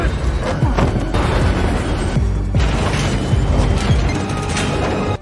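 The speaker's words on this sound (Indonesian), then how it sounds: "Pistol musuh diambil dan dirusak olehnya, yang membuat meledak di tangan musuh." Film action scene where a pistol explodes in an enemy's hand: heavy booming crashes and sharp bursts over a dense, loud soundtrack, with a few impacts spaced across the scene.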